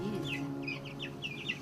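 Chickens cluck close by in quick, choppy bursts, several short calls overlapping over a low steady background hum.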